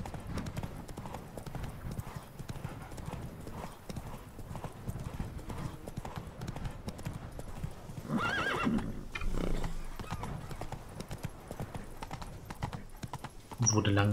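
A horse in The Witcher 3 video game rides away, with steady clip-clop hoofbeats and a whinny, heard through game music and ambience, growing busier near the end.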